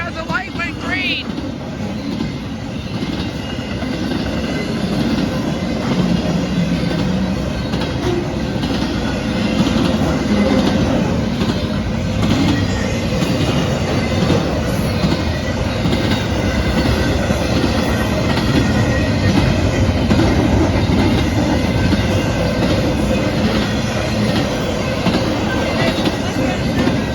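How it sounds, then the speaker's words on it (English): A train rolls steadily past a 4th Street crossing, a loud continuous rumble with rhythmic clickety-clack of wheels over rail joints lasting the whole half minute, and voices occasionally audible beneath it. "We have another train coming also."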